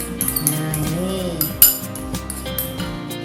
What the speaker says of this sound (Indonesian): Tepung ketan sama tepung beras saya aduk